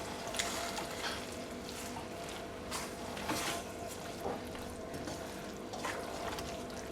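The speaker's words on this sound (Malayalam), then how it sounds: "നന്നായിട്ട് മിക്സ് ചെയ്ത് യോജിപ്പിക്കാം." Cooked wheat pasta is stirred together with vegetables in a pan, giving soft wet scraping and a faint sizzle, quiet and continuous, with no speech.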